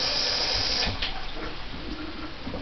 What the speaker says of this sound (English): turn the water on, make sure it's hot,